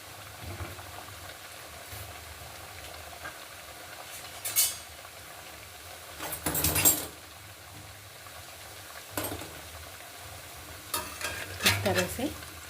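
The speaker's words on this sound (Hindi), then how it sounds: "हमें स्लो फ्लेम पर ही इसको भूनना है ताकि ये अंदर तक सिक जाए" Churma dough balls fry in oil over a slow flame with a low, steady sizzle, broken by several bursts of stirring and scraping and a few metal clinks, with no talk.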